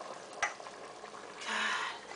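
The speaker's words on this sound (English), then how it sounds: "So we're gonna stir this up again." A spoon stirs a pot of zombie-themed stew said to hold eyeballs and intestines, giving a low scraping, swishing sound with one sharp clink partway through and a louder, steadier stretch of stirring near the end.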